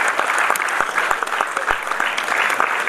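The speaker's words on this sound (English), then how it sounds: "We'd just like to give a round of applause." A room full of people gives a round of applause at a student chapter launch event, with dense, steady clapping at even loudness for the whole stretch and no speech over it.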